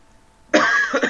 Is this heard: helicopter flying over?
no